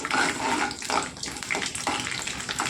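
Chana dal is dropped into a pan of hot oil, giving a steady, loud, hissing sizzle that runs continuously with small bursts and fluctuations and no talking.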